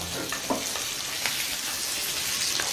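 Garlic and curry leaves fry in a pan for chicken 65, giving a steady close sizzle with occasional crackles and light stirring scrapes, no voices.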